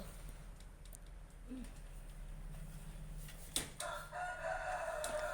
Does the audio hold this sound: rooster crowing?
yes